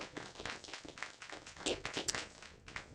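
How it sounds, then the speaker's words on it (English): Audience at a school board meeting clapping in a short burst of applause, a room's worth of hands patting irregularly and fairly close for a few seconds. "Can we give her a round of applause?"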